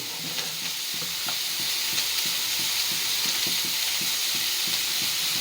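Chillies, cumin and mustard seeds sizzle and fry in a pan with turmeric and salt, a steady close hiss with soft scraping as they are stirred, continuous throughout and with no talk.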